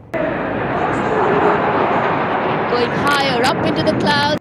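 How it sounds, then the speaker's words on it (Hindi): Three Sukhoi fighter jets fly in trishul formation during a Republic Day flypast, making a loud, sustained roaring rush, with a voice speaking over the final second or so. "तीन सिखोई विमानों ने त्रिशूल फॉर्मेशन बनाकर आसमान में खतरनाक करतब दिखाए"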